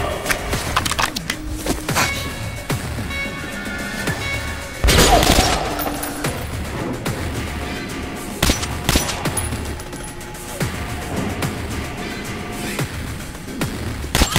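Gunfire in the video game Metro Last Light, a dense run of sharp shots and bursts with a loud flurry around the middle, set over a busy game soundscape.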